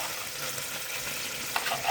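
Garlic frying in oil in a pan for an okra and meat tagine, a steady close sizzle with light stirring scrapes and a few sharper crackles near the end.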